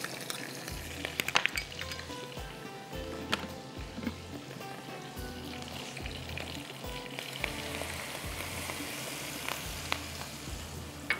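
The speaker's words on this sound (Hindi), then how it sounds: "बस इसको हाई फ्लेम पे भूनते हैं" A tomato, ginger and garlic masala fries on high flame for a spicy rice dish, giving a steady, close sizzle with occasional stirring scrapes and clinks and a low pulsing hum underneath.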